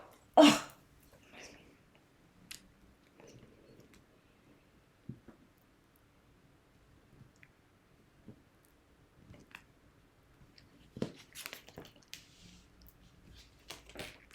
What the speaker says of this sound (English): I'm just getting over my little sneeze session I just had.